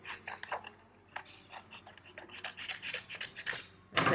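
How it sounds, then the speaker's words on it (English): Scissors snipping paper along a crease, a series of close, crisp cutting crunches in short irregular bursts, ending with a louder rustle of paper. "I'm going to cut down that crease."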